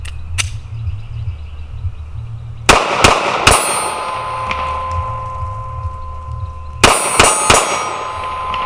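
Shots from a Sig P365 compact pistol ring off steel targets at a shooting range, a few sharp clangs early on and then a quick burst of several more, loud and close, with no talking.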